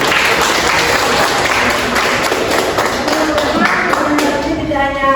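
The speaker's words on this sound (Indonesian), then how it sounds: "Oke, tepuk tangan dulu." Classroom applause from a group of students, steady clapping held for about five seconds, loud and close, with a few voices mixed in near the end.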